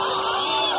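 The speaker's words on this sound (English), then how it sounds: "Scott, big round of applause for Scott Edwards" A comedy club audience cheers and whoops for club owner Scott Edwards, a brief, dense burst of crowd noise at steady volume.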